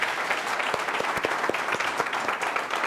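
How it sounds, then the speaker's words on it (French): An audience applauds to welcome a speaker at a business training event, a continuous wash of clapping with a few sharper individual claps standing out over the crowd. "Eh bien voici l'immense Ibrahima Théo Lam qu'on applaudit très fort."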